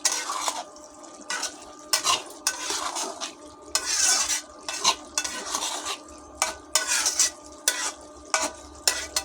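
Small fish with ginger-cumin paste stirred in a pan, a spatula scraping and clacking in a steady repeated rhythm over a soft sizzle, close and fairly loud.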